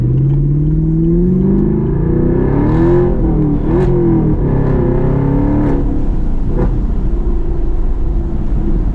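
A Chevrolet Camaro SS with its throttle controller set to Sport 3 accelerates with a loud, steady engine drone whose pitch climbs and dips through revs, heard close and without talk.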